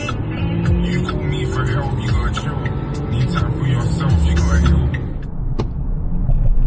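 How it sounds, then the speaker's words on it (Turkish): An Audi A5 Sedan accelerating at full throttle from about 60 km/h with the transmission in sport mode, its engine drone climbing steadily in pitch as revs build, heard continuously from inside the cabin. "Burada aracın dip gaz tepkilerine bakalım arkadaşlar."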